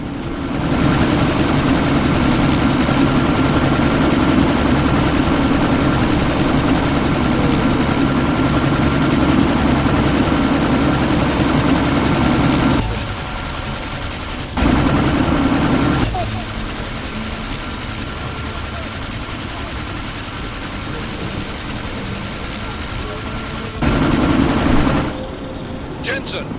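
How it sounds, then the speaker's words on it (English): A helicopter in the video game Deus Ex: Mankind Divided, its rotor and engine a loud, steady droning roar that fills the whole stretch, dipping briefly a few times and then continuing. "That chopper's about to take off!"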